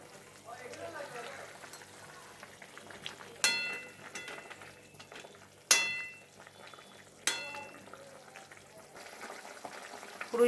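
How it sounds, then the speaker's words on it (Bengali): A pot of rohu fish curry (rui macher jhol) bubbles on the stove with a quiet, steady simmer, broken by a few sharp clinks and splashy bursts, while a voice talks over it. "আবারও কিছুক্ষণ ফুটতে দেব।"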